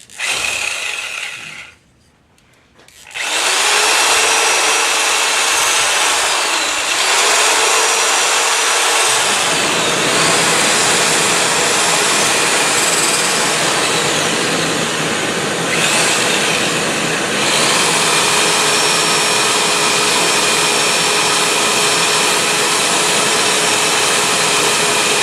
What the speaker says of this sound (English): you can actually use your sanding mandrel and your drill to do that